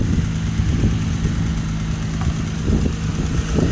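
A Nissan G35 engine with its idler pulley removed idles nearby, making a loud, steady, low rumbling hum with a slight vibration and no talking.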